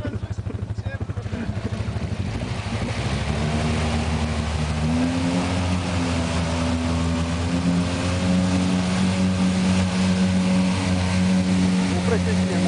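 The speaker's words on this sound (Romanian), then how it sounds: "Oprește și mie motorul." A Kawasaki personal watercraft engine runs steadily and loudly up close, its droning pitch climbing and holding, with people talking over it.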